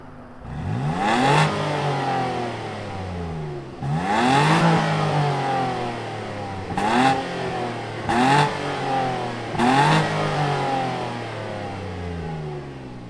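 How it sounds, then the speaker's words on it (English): A 2020 Nissan Frontier Pro-4X V6 fires up and is revved five times. Each close, loud rev climbs and then falls back to a quieter idle, with short pauses between them and no talking. "let's fire it up and hear what that V6 sounds like"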